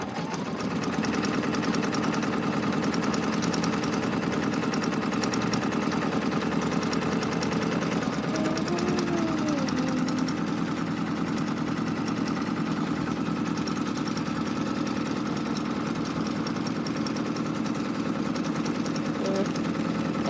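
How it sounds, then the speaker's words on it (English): A multi-needle embroidery machine stitches red baseball-style stitches onto a sweatshirt, giving a steady, continuous mechanical whir and hum that holds at a constant level throughout, with a person's voice briefly audible over it. "So now it's going to do the baseball stitches in red."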